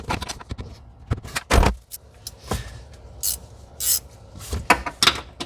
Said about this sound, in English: There's 2 15 millimeter nuts on this strut tower. I'm going to try to loosen them up with a wrench.